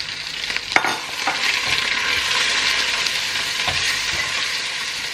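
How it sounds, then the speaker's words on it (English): Spices for butter chicken fry fast in a hot pan, giving a steady close sizzle with a few sharp scrapes and clicks from stirring, with no talk. "And then we're going to add our spices. And you just want to fry this quickly."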